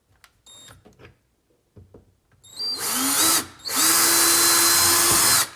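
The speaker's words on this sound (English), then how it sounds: "Got a drill bit here, and I do just like drill through it." A power drill with a bit boring through plain drywall during a thermostat replacement, two loud sustained whirring bursts with a short pause between them, after some faint handling taps.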